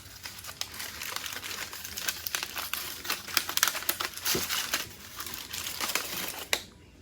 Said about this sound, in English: So now we're going to remove the beans and the foil.